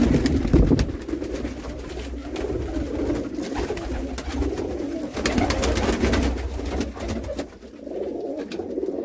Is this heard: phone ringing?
no